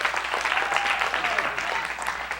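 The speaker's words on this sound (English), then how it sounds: "Give him a hand clap." A synagogue congregation gives a round of hand clapping: steady, dense applause filling the room, with voices carrying over it.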